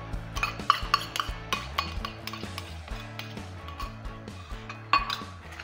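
Green masala paste is added to onion and tomato in a pan and stirred with a metal utensil, producing repeated clinks and scrapes against the pan over a low sizzle, close and without talk.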